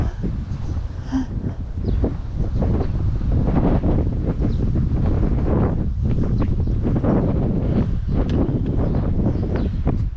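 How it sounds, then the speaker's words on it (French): Strong wind buffets the microphone continuously, a loud rumbling roar with gusty fluctuations throughout, in the potters' village of Guellala on Djerba, Tunisia. "c'est vachement venteux."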